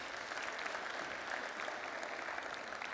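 A Christian Democrat party audience applauds at a political speech, a steady dense patter of clapping hands from a large crowd, continuous and fairly distant for the whole stretch.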